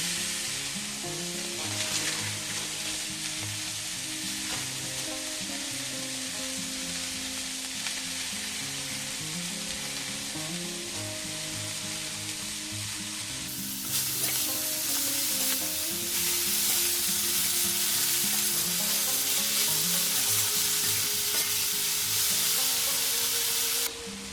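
Chopped bathua greens sizzle steadily in a hot pan of oil as they are fried and stirred, a loud, continuous close-up crackle with scraping stir strokes that grows brighter and more intense in the second half.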